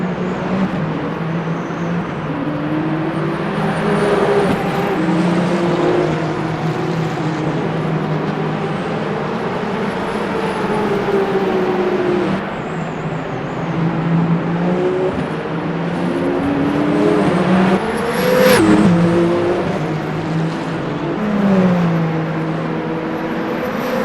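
Race car engines in Le Mans Ultimate at Bahrain International Circuit, including a number 51 Ferrari, whine and shift through rising and falling revs, with a car closing in and sweeping past near the end.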